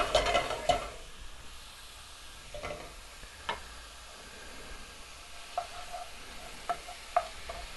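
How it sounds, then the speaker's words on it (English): Ground meat sizzles steadily over high heat in a saute pan, a soft continuous hiss broken by sharp clicks and scrapes as a wooden spoon stirs it. "Hear that sizzling?"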